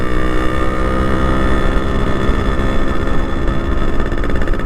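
Yamaha RX100 two-stroke motorcycle engine running close by, a loud steady buzzing idle with a fast even pulse and no talk.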